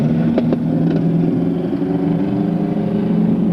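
A loud, continuous engine roar with a deep, rough hum from a race car running nearby with a damaged, partly lost exhaust, steady for the whole stretch.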